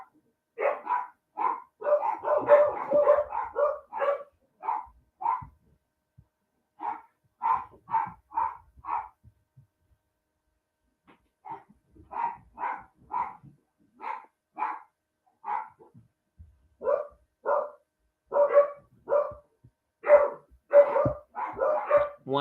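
A dog barks indoors in repeated quick bursts of two to four barks with short pauses between, fairly close and steady across the whole stretch with no talking over it.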